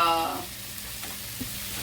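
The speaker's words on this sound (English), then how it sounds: "Oh, and that's already sizzling because I had the stove semi-warm." Meat sizzles briefly in a hot pan, a soft crackling fry with a few small pops, no talking.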